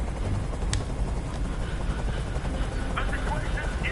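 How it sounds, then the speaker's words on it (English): A helicopter in the video game Detroit: Become Human drones with a steady low rumble and rotor chop, a constant mechanical wash in the background under a scene with occasional voices. "Tell that helicopter to get out of here"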